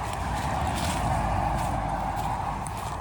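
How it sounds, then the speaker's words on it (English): Road traffic heard from a rural property with pine and oak trees, a steady, distant broadband rumble and hiss of passing vehicles with no distinct events, moderately faint and continuous. "So you may be able to hear the traffic noise behind me"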